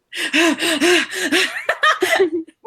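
Rapid, rhythmic panting breaths, likely voiced by a person imitating a dog, repeat quickly and close up, then break into a few looser gasps.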